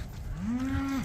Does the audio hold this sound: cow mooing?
yes